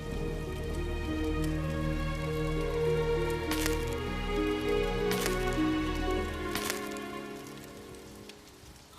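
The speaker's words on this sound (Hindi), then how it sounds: "आज वर्षा रुकेगी नहीं।" Steady rain falls continuously throughout, a dense even wash with a few sharper splashes. A sustained tonal background runs underneath, and the sound thins out near the end.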